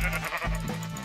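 A sheep in Minecraft gives a couple of short, close bleats in quick succession, fairly loud with no voices over them.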